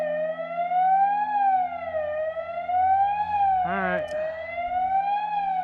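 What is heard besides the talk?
dam warning sirens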